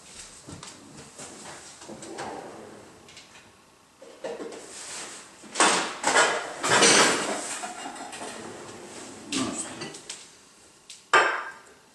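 A metal bread baking tin is lifted and handled in a kitchen, with scattered clattering knocks and scrapes that come in bursts, a few loud clanks standing out near the end.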